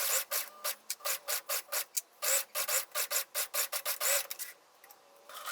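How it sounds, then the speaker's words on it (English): A serger stitches a jacket sleeve seam at the shoulder in short, rapid bursts, about twenty quick runs stopping and starting in an even rhythm, with a rasping, up-close mechanical buzz and no talking. "And then serged the seam"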